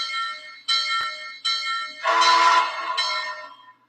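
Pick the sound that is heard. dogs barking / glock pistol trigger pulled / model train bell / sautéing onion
model train bell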